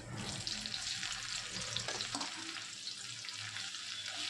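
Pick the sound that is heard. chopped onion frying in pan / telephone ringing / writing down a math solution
chopped onion frying in pan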